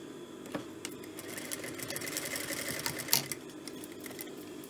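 A sewing machine stitching fabric for a cloth headband with buttons, running in a steady continuous whir with small bursts of rapid stitching, fairly close and moderate in level, with no talk.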